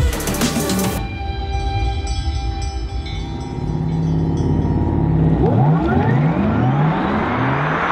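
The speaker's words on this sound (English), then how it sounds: "The whirring power on sound is almost spooky." A Porsche Taycan 4S electric car accelerates with a rising, futuristic whir that sweeps upward in pitch, steady and fairly loud, with no talking.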